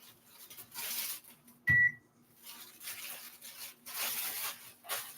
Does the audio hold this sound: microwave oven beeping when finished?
yes